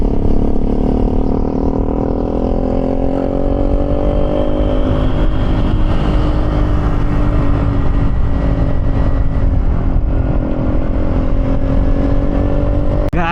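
Vespa scooter engine droning steadily while riding on a long mountain ride, a loud, close, continuous buzz with slowly rising pitch throughout, no voices.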